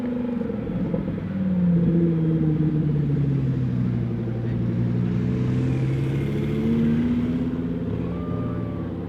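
A Lamborghini Huracan sports car at the Gold Rush Rally 2018 in Scottsdale gives off a steady, deep engine rumble with slow rising and falling revs, loud and close throughout.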